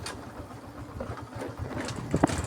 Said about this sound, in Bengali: ছুটছে, বাইক ছুটছে।